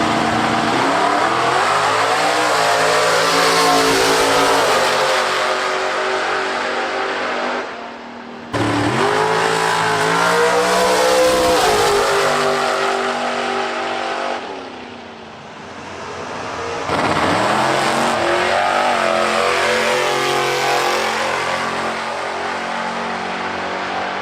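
A Hayabusa-swapped EV makes a dragstrip pass, its engine roaring loud and close and rising in pitch through each gear with two clear shift breaks, the note climbing steadily between them.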